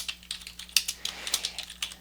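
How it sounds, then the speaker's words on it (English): Rapid, irregular clicking of keys on a computer keyboard, close and crisp, with no talking over it. "we can start typing right away"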